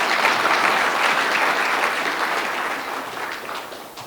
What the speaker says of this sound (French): Il mérite vraiment un applaudissement.